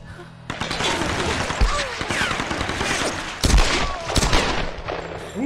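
Loud, close bursts of automatic gunfire from Tomb Raider crackle almost continuously, with a couple of heavier thumping impacts mixed in.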